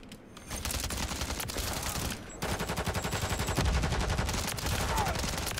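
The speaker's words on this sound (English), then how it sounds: "my gun sounds so freaking awesome when I shoot it" Rapid UMP45 submachine gun fire in Call of Duty: Modern Warfare 3 crackles in loud, dense bursts with a brief pause between them.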